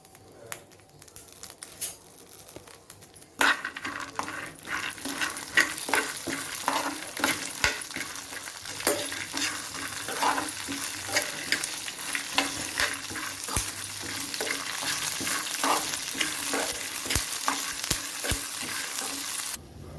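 Loud, continuous crackling and sizzling of green chillies and curry leaves frying in hot oil, starting abruptly and carrying on with scattered sharp pops and stirring sounds.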